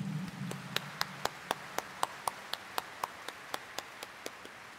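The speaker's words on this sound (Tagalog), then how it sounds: "iparinig nga natin sa mahal na Pong Jesus Nazareno ang mas malakas na palakpak." Evenly spaced single hand claps from a church congregation, about four per second, ringing in the reverberant Quiapo Church hall during Mass and fading slightly toward the end; no voices.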